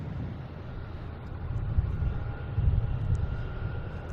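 Airliner on flight 774 from Aruba at Boston Logan airport, a distant, steady low jet rumble that grows a little louder toward the end, with no voices.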